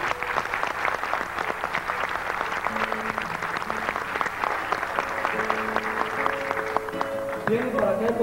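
Warm applause from an audience at a tribute event in Delicias, Chihuahua, a dense steady clapping that runs the whole time, with a voice speaking over it and a few sustained musical tones near the end.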